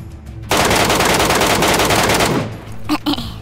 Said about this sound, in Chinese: 开枪早了，但是不慌。